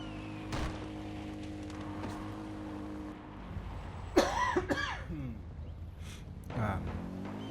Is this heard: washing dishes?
no